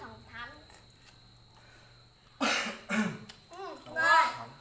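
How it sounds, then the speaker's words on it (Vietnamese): A child coughs several times in short bursts near the mic, with some voices around it at a family meal of simple homemade hotpot. "Vẫn còn ho cả nhà."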